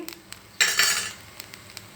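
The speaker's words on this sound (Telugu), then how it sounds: "అందుకనే సిమ్లో పెట్టేసి నిదానంగా వేపుకోవాలి గోల్డ్ కలర్ వచ్చేటట్టు వేయించుకోవాలండి" Vermicelli roasts slowly in a pan over low heat, with a few light clicks of utensil on metal and then a short, bright scraping stir in the middle. The clip is close and brief, with no talking.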